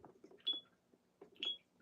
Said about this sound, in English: That's why I like the beeps.